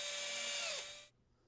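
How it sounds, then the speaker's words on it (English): Small power drill boring a hole into a hard resin model kit, a thin high whine that runs steadily for about a second, then winds down and stops, quiet and close. "start drilling a hole."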